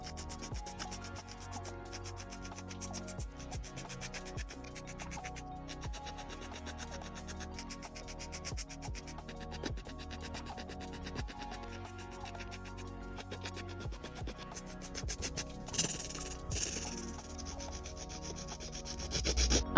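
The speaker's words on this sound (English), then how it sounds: "I'm just gonna go ahead and shape these up using my 8080 grit nail file." An 80/80 grit nail file shaping fingernails, giving steady, close, quiet rasping strokes in a repeated back-and-forth rhythm that grow a little louder toward the end.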